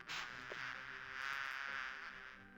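Insect-like buzzing of bees in the Discworld 2 point-and-click game, a steady droning hum holding for a couple of seconds at low level with no talk over it.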